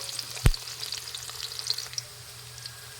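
Onion and garlic sizzle in hot oil for pancit bihon, a steady frying hiss with light stirring scrapes and one sharp clack of a utensil near the start.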